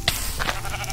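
Sheep in the video game Minecraft bleat in short nasal cries, one clear bleat followed by a couple of softer ones over steady background noise.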